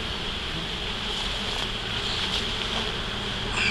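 Carniolan honeybees buzzing around a pollen-trap beehive entrance, a steady close drone of many wings lasting throughout with no voices.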